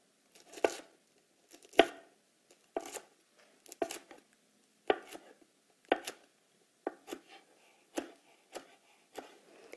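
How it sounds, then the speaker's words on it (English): A knife slices kale into thin chiffonade strips on a cutting board, giving a series of about a dozen crisp, separate cuts at an uneven rhythm, close and quiet, with near silence between strokes. "cutting strips as thin as I can."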